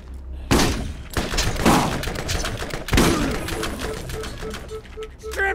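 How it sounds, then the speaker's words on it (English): Loud shotgun blasts in the Borderlands video game, three heavy booming shots spaced about a second apart, each with a sharp attack and a rumbling decay, plus mechanical clatter and game effects between them. "Let's try the shotgun out."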